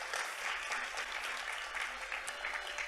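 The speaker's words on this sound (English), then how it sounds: "please, a round of applause for Icon Industries" Audience applause at TechCon SoCal 2026, a tech conference, for sponsor Icon Industries: steady dense clapping from a seated crowd, fairly faint and even across the whole stretch.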